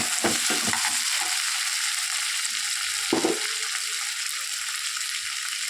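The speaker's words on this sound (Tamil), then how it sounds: "நல்லா வதக்கணும்." Two large tomatoes sautéing in a pan for a bitter gourd gravy give a steady, close frying sizzle, broken by a few scraping stirs early on and one firmer stir near the middle.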